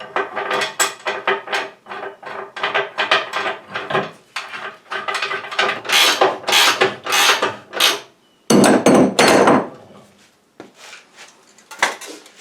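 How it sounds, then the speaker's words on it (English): Lock nut tightened onto plow springs with a wrench, a dense run of close metallic ratcheting clicks and clanks in bursts and one louder scraping stretch, with no speech. "Now I just tighten this lock nut on it"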